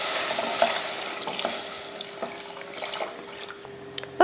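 A pot of sambar is stirred with sambar powder mixed in, then water is poured in, giving a running, splashing wash with scattered clinks of a spoon against the pot, near and steady.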